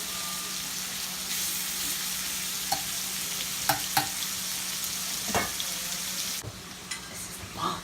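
Organic shrimp sizzle in a hot pan, a constant hiss of frying broken by occasional clicks and scrapes of a utensil, with no one speaking.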